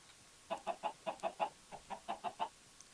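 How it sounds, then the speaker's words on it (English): Minecraft chickens give a quick series of about a dozen soft rhythmic clucks in two bursts, close and fairly quiet against a hushed background. "Exactly, chickens."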